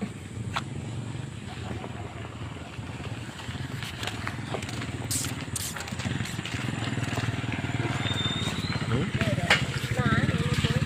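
A motorcycle engine runs steadily on the rough road to Dumagooc Falls in Agusan del Sur, a continuous low drone that builds slightly louder toward the end while people talk over it.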